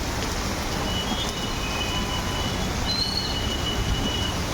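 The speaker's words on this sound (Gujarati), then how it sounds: "વરસાદ હજી સતત ચાલુ જ છે." Steady, dense monsoon rain in Keshod, Gujarat pours without a break, a broad constant hiss with the patter of drops filling the whole clip.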